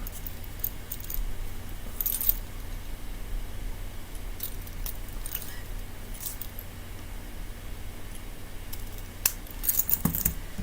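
Scissors snip paper or craft material at a craft table, a handful of light, sharp cuts scattered through near-silence, close and quiet, no talking.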